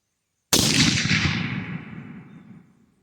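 A single sharp gunshot from a .270 Win Weatherby Vanguard rifle cracks loudly close by, then its report rolls away and decays over about two seconds.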